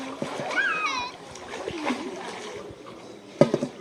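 Water splashing in a resort swimming pool with an underwater bar, brief near splashes as people talk, including a voice, ending with a sharper burst of splashing.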